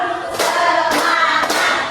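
Teachers clapping together in a counted group exercise at a junior high school, three sharp unison claps spaced about half a second apart, crisp and near over a faint room hum.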